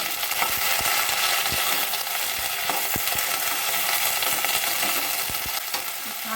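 Eggplant and beans frying in hot oil give a loud, continuous sizzle, with occasional soft clicks of stirring.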